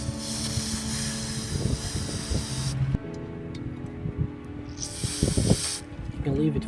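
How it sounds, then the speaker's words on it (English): AC Delco cleaner sprayed onto the throttle body of a 2012 Kia Sportage, heard as two long, loud hissing bursts of several seconds each with a short pause between, over faint handling noises. "The spray I'm using is AC Delco."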